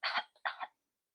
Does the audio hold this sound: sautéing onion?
no